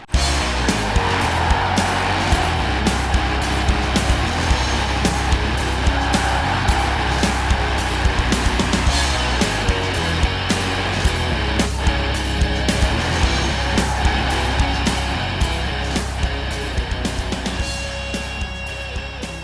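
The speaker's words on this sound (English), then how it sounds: "take a big, powerful, rear-wheel drive car and throw it into some donuts" A big, powerful rear-wheel-drive car doing donuts in Forza Horizon 4, a 1970 Chevy Chevelle Super Sport modified into a top-fuel-style dragster, its engine droning steadily and loudly with constant ticking and scrubbing from the spinning tires.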